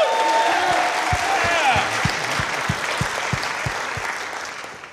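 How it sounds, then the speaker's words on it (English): A church congregation at a Sunday service gives a round of applause for Pastor Clark's 77th birthday, a loud, dense crowd clapping with low rhythmic thumps underneath that slowly fades out. "let's get another round of applause for Pastor's 77th birthday"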